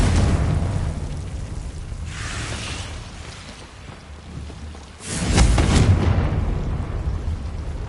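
A Confringo fire-blast spell explodes in Hogwarts Legacy, a loud rumbling boom with a burst of crackling noise that swells again partway through over a steady roaring background.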